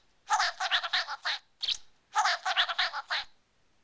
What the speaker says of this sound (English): So you guys just heard that bird repeat what I said